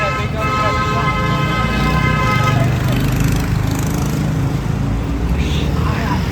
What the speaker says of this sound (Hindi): पीछे ट्रैफिक का अच्छा खासा नॉइज आ रहा है।